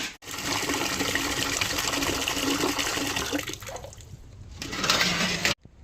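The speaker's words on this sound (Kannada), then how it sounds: "ಇವಾಗ ನೀರು ಬಿಡ್ತೇನೆ" Water gushes steadily from a tap or pipe for a cow to drink, a loud continuous rush that tapers off before a brief surge and abrupt stop.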